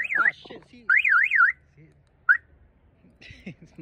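A cheap aftermarket car alarm on a 1962 Chevrolet Impala chirps in loud bursts of a rising-and-falling warble, then pauses, gives a short chirp, and a faint click follows.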